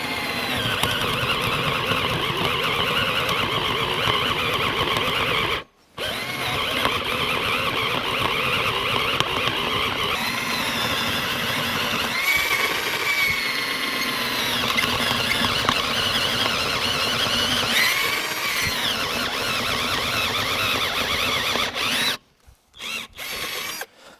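A cheap Genesis power drill, among the lowest-priced on Amazon, whirs and squeals loudly as it drills, running in long stretches broken by a brief stop and a few short bursts near the end.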